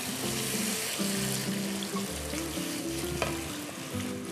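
Sauce poured into a pan of mullet and onions, a steady crackling sizzle with hiss and stirring, close and moderately loud throughout.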